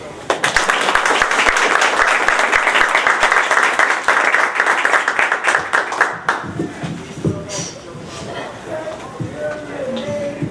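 A seminar audience at a college campus event bursts into sustained applause for an arriving speaker, dense clapping that fades after about six seconds into a voice beginning to talk.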